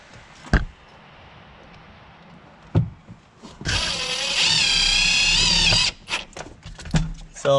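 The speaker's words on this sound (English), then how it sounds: "we're just going to take our impact 1/4 inch hex drive" An impact driver with a magnetic 1/4 inch hex bit drives a self-tapping screw while an LED tail light is fitted to a Subaru Crosstrek. One loud, steady buzzing burst lasts about two seconds and is set between scattered clicks and knocks.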